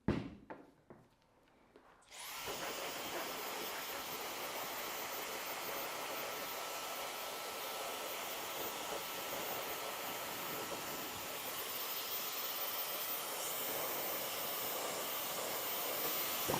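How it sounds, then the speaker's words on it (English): Hairspray from an aerosol can is sprayed onto a hair weave, a steady, fairly loud hiss that starts after a couple of quiet seconds and runs unbroken to the end, with no talking. "so I'm gonna add a little bit of hairspray."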